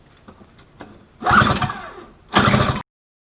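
A Snapper 17 LE snow blower's engine is cranked in two loud, rough bursts after faint clicks and handling noises, each attempt cutting off abruptly without the engine catching.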